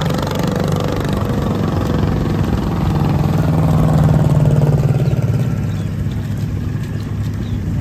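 A boat engine drones steadily and loudly throughout, its pitch swelling slightly midway before settling back, with no voices over it.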